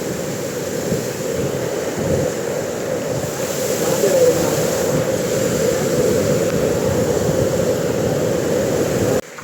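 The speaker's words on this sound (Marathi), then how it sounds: "अजून एक वरती धबधबा लागलेला आहे" Steady, loud rushing water pours continuously throughout, a broad roaring wash of a nearby monsoon waterfall at Raigad fort, with no breaks.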